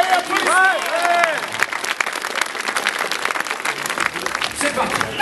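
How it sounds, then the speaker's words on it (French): Crowd applause greets a rider at an elite cycling super final in Clisson, steady clapping filling the clip, with an announcer's voice over the start. "voudrais s'il vous plaît qu'on applaudisse dans cette super finale Kevin Aglaé, applaudissements."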